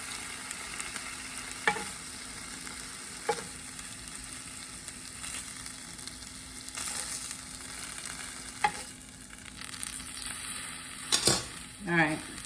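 Ham frying in a pan for a Cubano sandwich, a steady soft sizzle with occasional utensil clinks and scrapes, moderately quiet and close.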